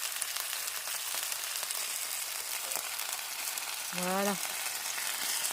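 New potatoes and sweet-savory skewers sizzle steadily on a hot plancha, a continuous close frying hiss throughout, with a brief spoken word near the end.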